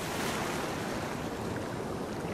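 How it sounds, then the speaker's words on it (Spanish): Ocean waves wash steadily onto the shore, a continuous broad rushing surf with no distinct breaks, fairly loud and close, without voices. "el viejo llegó de nuevo a la orilla del mar, cuyas olas seguían alzándose plácidas y secretas"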